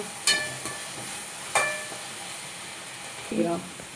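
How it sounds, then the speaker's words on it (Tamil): Chopped onions go into hot oil with cinnamon and cloves in a pan, giving a soft steady sizzle broken by a few sharp metallic clinks and scrapes, close by, with no voices. "வெங்காயம் நல்லா வதங்கட்டும்."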